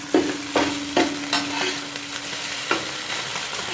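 Oyster omelette frying in a pan, Teochew style, with a steady sizzle under repeated sharp scrapes and taps of a spatula stirring and flipping, close and moderately loud.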